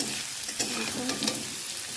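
Potatoes and Gobindobhog rice sizzle and crackle in a hot pan, a steady frying hiss with small pops and stirring scrapes.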